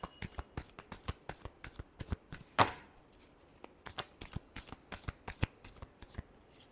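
Tarot cards being shuffled by hand, a rapid run of crisp riffling flicks and snaps close up with one sharper slap partway through, no talking.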